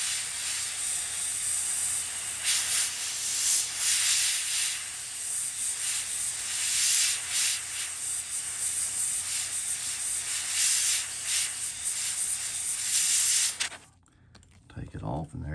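Steady close hiss of an air compressor feeding an airbrush during lure painting runs for about fourteen seconds, then cuts off abruptly, with quieter handling sounds after.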